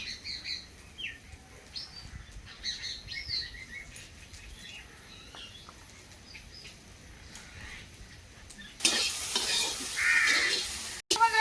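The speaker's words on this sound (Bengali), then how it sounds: "কচুর বইটা কি সুন্দর কিন্তু লাল লাল করে ভেজে নিয়েছি" Colocasia stolons fry in oil during village cooking, first as a faint sizzle with birds chirping nearby, then as a sudden loud, hissing sizzle that continues to the end.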